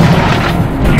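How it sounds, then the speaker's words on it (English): A shotgun blast from the video game Serious Sam HD: The First Encounter, a loud, booming report filling the whole second with heavy low-end rumble and no talk over it. "this is where we get our good little shotgun"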